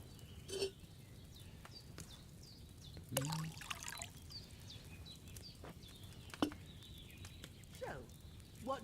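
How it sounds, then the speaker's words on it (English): Wine pouring into a cauldron in Kingdom Come: Deliverance II, a soft trickling stream that runs for several seconds under faint ambient game sounds and occasional clinks. "So, what did you pour in there? Wine, of course."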